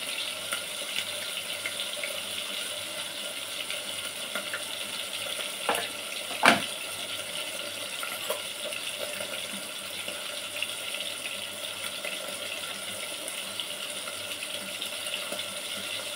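Water pours from a tap into mustard paste, making a steady, close running hiss with one brief clatter midway, and no one speaking.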